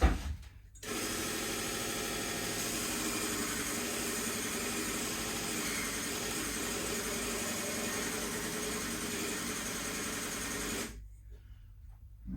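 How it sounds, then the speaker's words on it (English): A small belt sander whirs steadily for about ten seconds squaring off the end of a piece of wood, a loud constant buzzing grind that starts and stops abruptly. "I'm going to square off the end, one end, using this little sanding belt over here"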